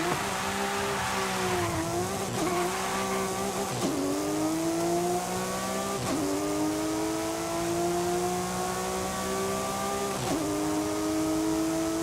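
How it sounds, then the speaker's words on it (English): A twin-turbo 3-liter car engine driving in the Forza Horizon 5 video game, with a loud, steady engine drone that rises through the gears and dips briefly at each shift, and no talk. "And it's turbocharged. Twin turbos. 3-liter."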